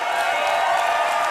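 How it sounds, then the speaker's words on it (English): A chessboxing event audience breaks into applause and cheers for a fighter, a dense, loud wash of clapping and whoops held steadily through the moment. "Give him a massive round of applause."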